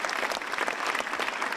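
An audience at a public event gathering with the mayor and the governor bursts into brisk, dense applause, many hands clapping together in a steady wash for a short moment.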